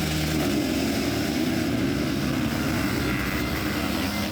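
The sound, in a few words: sidecar racing engines roaring at race start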